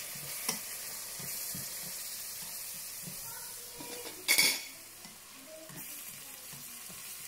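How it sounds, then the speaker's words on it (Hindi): Chicken karahi fries steadily in a pan, a soft continuous sizzle with occasional stirring and a clatter of utensil against metal midway, close and moderately loud with no talking. "तो देखिए मैं इसको फ्राई कर रही हूँ, तो मैंने 5 मिनट तक फ्राई करना है।"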